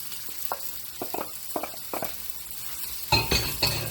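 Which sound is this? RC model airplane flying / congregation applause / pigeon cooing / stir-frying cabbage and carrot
stir-frying cabbage and carrot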